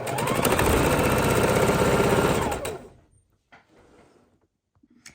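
A sewing machine stitching pinwheel quilt blocks runs in a fast, loud, steady mechanical chatter for a few seconds, then stops, leaving faint handling clicks and rustles.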